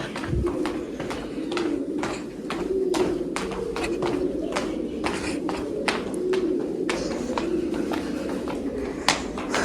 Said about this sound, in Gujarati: વધારે કબૂતરા રીએ છે